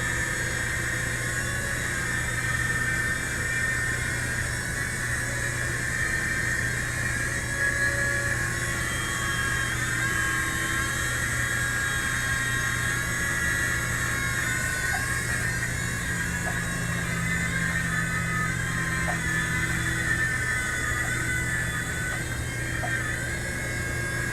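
Steady high-pitched whirring of a small remote-control helicopter's rotor and motor, holding a constant tone with slight pitch shifts, no one speaking.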